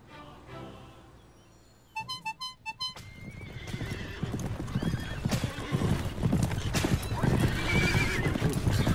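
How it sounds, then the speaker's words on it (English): Horses in the video game South Park The Stick of Truth clip-clop in a quick rhythmic burst, then neigh and whinny loudly over a steady, rising stream of hoofbeats and movement. "Horses."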